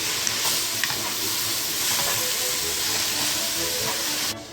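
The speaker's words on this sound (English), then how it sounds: "now that our mushrooms are cooking out here and you can see the moisture starting to come out of the mushrooms" Fresh wild morel mushrooms sizzle steadily in a hot pan as their moisture cooks out, a close, even frying hiss with faint crackles and no talking.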